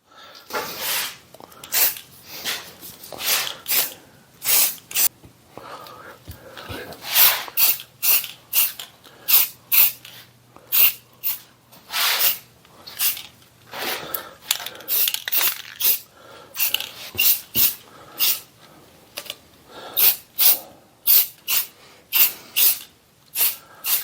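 Short repeated bursts of Rust-Oleum almond gloss spray paint from an aerosol can, close and fairly loud, each hiss separated by brief pauses in an irregular rhythm.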